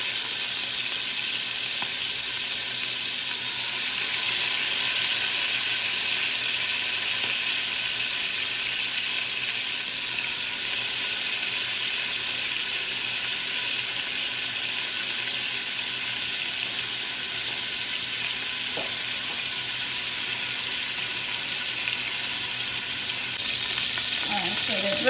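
Oxtail pieces browning in a pot, a steady close sizzle and hiss of frying that holds evenly for the whole stretch, with a brief stir near the end.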